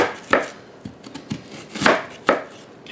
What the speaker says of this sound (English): I got the onion chopped up